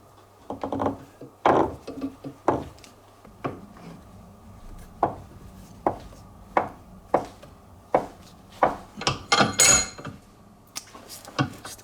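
A 13mm extended socket presses a bearing onto a TIME ATAC bicycle pedal axle, producing a series of close, irregular knocks and metallic clicks spread over about twelve seconds, with no talk.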